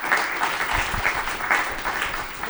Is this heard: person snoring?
no